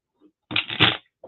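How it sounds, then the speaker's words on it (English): Tarot cards being shuffled, a single brisk half-second riffle, close and crisp, surrounded by near silence. "I'm going to shuffle again."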